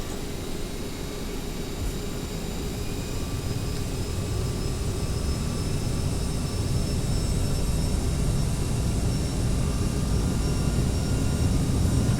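CRJ jet engines in a flight simulator game spool up to takeoff power, a loud, constant broadband roar with a faint high whine that holds steady and builds slightly throughout.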